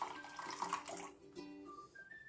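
Hot water poured from a kettle while preparing tiramisu, a steady splashing stream that runs for about a second, then thins into a lighter trickle with a few faint ringing tones.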